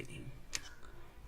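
A single crisp click of the Ctrl key on a computer keyboard, close and brief, with faint room noise around it and no talking.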